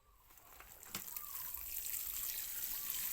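Water pouring over potted lemongrass plants, a soft close splashing and trickling that builds and holds steady over a few seconds.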